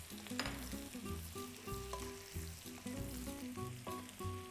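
Minced onion, ginger and garlic sizzle in moderately hot oil for Xinjiang fried rice noodles, a close, steady crackle that runs throughout with faint tonal sound underneath.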